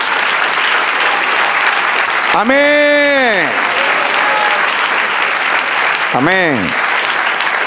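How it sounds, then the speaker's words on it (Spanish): Church congregation applauding steadily and loudly throughout, with voices calling out twice above the clapping. "Dale un aplauso al Señor"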